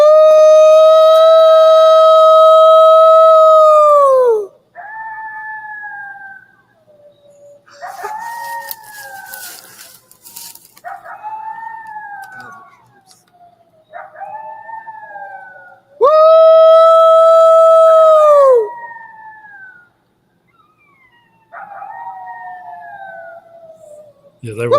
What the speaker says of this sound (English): Got coyotes.